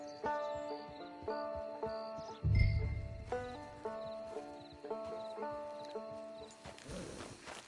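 A horse in the western game Red Dead Redemption 2, with rhythmic hoof clip-clops over tonal game music and a short low snort-like burst, all at moderate volume.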